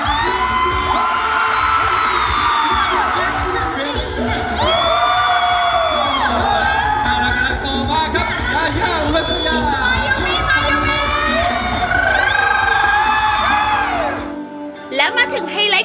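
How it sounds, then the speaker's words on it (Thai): Drama fans scream and cheer loudly at a fan meeting for the cast of Rising Sun, a dense, sustained crowd of high shrieks and whoops that rises and falls over about fifteen seconds before cutting off near the end. "แฟนละครได้กรี๊ดกันสนั่น"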